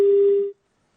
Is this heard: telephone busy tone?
yes